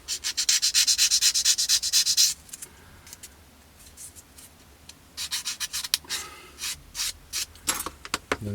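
Sanding sprue attachment points off a plastic part from a 1/48 scale Kinetic Pucara model kit: a quick run of short, close scratchy strokes, a pause, then more irregular rubbing bursts.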